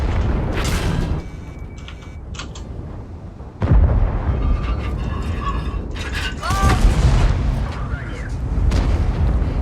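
Tank cannon fire and its booming impacts in the online game World of Tanks, with a T10 tank on the Himmelsdorf map, loud blasts and rumbling mechanical noise under excited shouting players.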